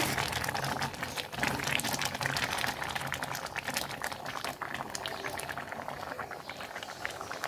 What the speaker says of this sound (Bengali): এখন আমি দুধটা দিয়ে দিব বন্ধুরা।